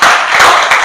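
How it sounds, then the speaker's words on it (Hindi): An audience claps for a young girl at a free sewing training centre, a short, loud burst of close applause heard alone. "एक बार इस बच्ची के लिए ताली।"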